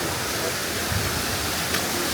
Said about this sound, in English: Just got to the waterfall.